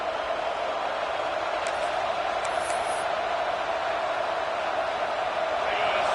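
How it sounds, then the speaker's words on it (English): A big LSU football stadium crowd roars in a steady, sustained wash of cheering and noise, constant and loud throughout, like a sea of fans urging on the defense. "this crowd coming to life here trying to help the defense get a stop with the offense pinned back"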